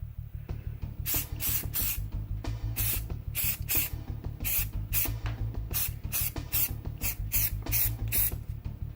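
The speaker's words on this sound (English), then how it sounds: "I'm going to spray some silver paint, kind of blob it up somewhere" Silver spray paint hisses from an aerosol can onto a blaster prop in a string of short bursts. A steady low mechanical hum runs beneath the close, loud sprays, and no one speaks.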